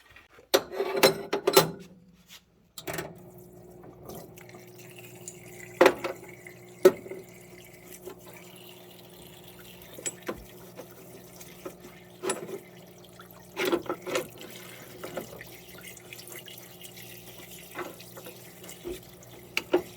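Greasy traction motor parts from a model locomotive are washed in a water tank, with running and dripping water, scattered splashes and clinks of parts against the tank, moderately close and without talk.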